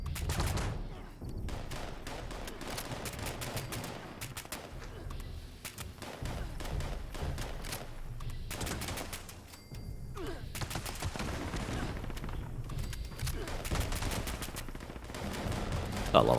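Rapid automatic fire from a handmade rifle in Fallout 76 rattles in long, dense bursts with only short breaks, loud and continuous over about sixteen seconds, with faint game sounds between volleys.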